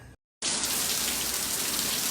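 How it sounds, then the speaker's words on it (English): Steady rain falling, a dense hiss of drops on surfaces that starts after a brief silent gap and continues close and even. "As you can tell, it started raining"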